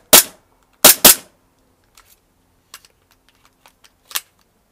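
An empty gas blowback airsoft pistol is cycled without BBs, giving three sharp, loud pops in quick succession, one of them a close pair. Faint mechanical clicks and handling taps follow, then a final pop.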